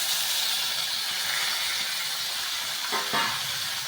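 Tomatoes dropped into reddish fried onions in a hot pan for a capsicum dish, producing a continuous broad hiss of sizzling, with a brief burst of stirring or scraping near the end.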